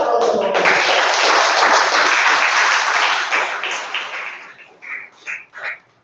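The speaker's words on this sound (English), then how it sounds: "If you agree, give that a round of applause." Loud applause from a live comedy audience swells at once and holds, then fades into a few scattered, dying claps.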